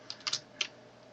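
Computer keyboard keys tapped while entering code, four quick clicks in an irregular burst, close and fairly quiet, with no talking.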